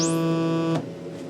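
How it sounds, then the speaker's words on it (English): Synthesizer tone shaped by a filter with a fast attack, a sustained harmonic-rich note whose brightness sweeps up almost at once, then cut off abruptly with a short decaying tail. "Versus a fast attack time, which might sound something like this"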